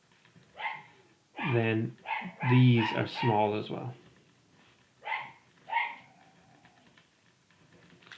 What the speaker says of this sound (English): sorry about the dogs, nothing I can do about that